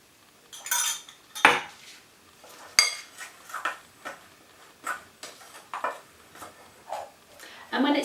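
Spoon or utensil scraping and clinking against a bowl while flaky pastry dough is mixed, a series of irregular sharp taps and scrapes at close range, with quiet gaps between strokes.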